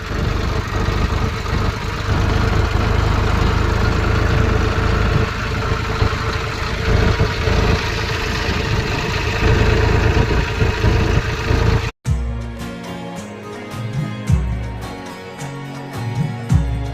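A tractor engine runs in a village setting, a loud, steady, low idling rumble with no voices. After about twelve seconds the rumble cuts off abruptly, followed by quieter, irregular knocks and clatter.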